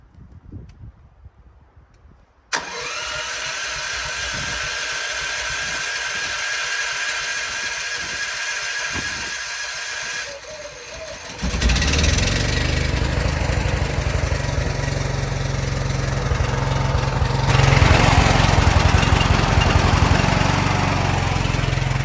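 A generator engine in snow cranks and catches on choke, running steadily, then revs up into a louder, rougher roar that continues to the end. Nearby and dominant, no talking.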